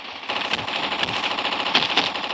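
Rapid automatic gunfire in a Roblox game, a steady dense rattle of shots running through the clip with a few sharper bursts near the end, no talk over it.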